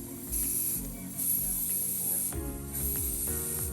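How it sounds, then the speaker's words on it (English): Airbrush spraying green paint onto a resin 3D-printed figure, a steady hiss that cuts in and out in several short bursts, close and fairly quiet, with no talking. "do our first airbrushing"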